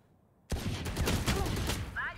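A dense burst of rapid gunfire in the game Valorant erupts after a brief quiet moment, sustained and loud, with a few shots overlapping throughout.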